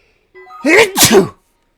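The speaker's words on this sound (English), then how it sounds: "I'm gonna sneeze again." A single close, loud human sneeze, with a short breathy intake leading into a sharp two-part burst, alone without any talk.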